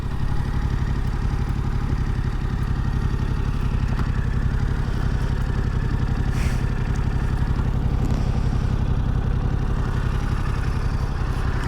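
A 2022 Yamaha MT07 motorcycle idling close by, its engine a steady, loud, low throbbing rumble with a light mechanical clatter, holding even throughout with no talk over it.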